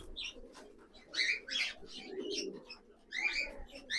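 An adult pigeon with clipped wings, held at a loft sale, gives soft coos mixed with brief higher calls, close and fairly quiet with no talk.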